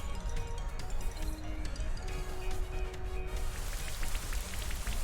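A Pokémon Rain Dance weather effect in a competitive video game battle produces an even, pattering downpour that holds steady from start to finish.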